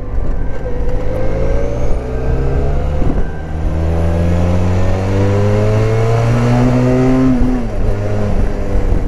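Stock-exhaust Benelli 502 TRK (2019, trail version) with its twin-cylinder engine, revving loud and close with rising and falling harmonic pitch sweeps, steady throughout with no talk.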